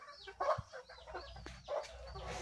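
Native chickens cluck and murmur in short, irregular bursts at close range, with a few sharper squawks mixed in over a quiet outdoor background. No one speaks.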